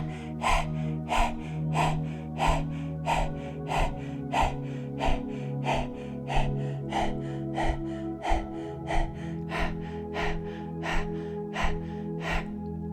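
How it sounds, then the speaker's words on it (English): Close, steady panting through the mouth with the tongue out during a yoga breathing practice, a long run of quick, evenly spaced breath puffs over a faint continuous hum. "So you're going to continue this panting breath for 3 minutes."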